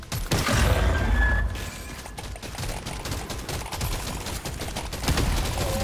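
Rapid gunfire crackles in an alien-shooting video game: a loud opening burst of automatic fire with a crashing impact, then sustained clattering shots with mechanical rattles, all continuous and fairly close.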